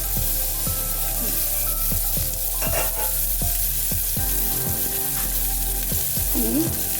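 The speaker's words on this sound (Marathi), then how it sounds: "बघा कांदा जरा तो टाकतोय फोडणीसाठी" Chopped onion with crushed garlic dropped into hot oil for a tempering in a Konkan-style festive dish, sizzling continuously up close while a utensil stirs and scrapes the pan in regular strokes.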